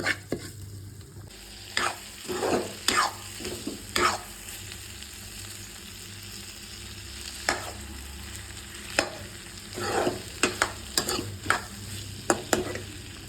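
Leftover rice frying in a little oil with salt and masala, a faint steady sizzle punctuated by irregular spoon scrapes and taps against the pan.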